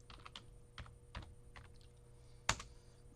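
Keys tapped on a computer keyboard, a few sparse separate clicks with one sharper louder keystroke near the end, close and quiet, no talking.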